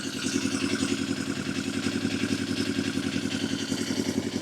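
A Yamaha XS 250 classic motorcycle engine idles steadily at around 1,000 RPM, a close, even, loud burble with a rapid regular pulse and mechanical clatter throughout, no one speaking.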